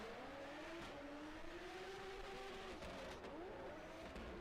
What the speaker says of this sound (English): I'm glad that we've got the car audio.